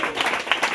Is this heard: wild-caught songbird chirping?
no